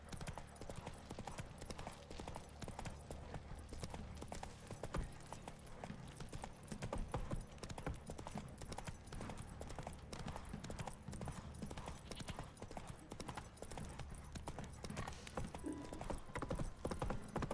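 Roach the horse clip-clops steadily along in The Witcher 3, a continuous run of hoofbeats under faint game ambience and a low background layer.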